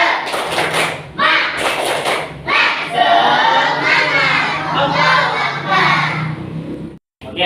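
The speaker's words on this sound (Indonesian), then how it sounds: "maka kita tepuk semangat dulu ya nak ya" Fourth-grade schoolchildren in a Quran class perform a rhythmic spirit clap, loud bursts of clapping alternating with shouted chanted calls in a patterned beat, ending with a brief sudden stop and one last clap.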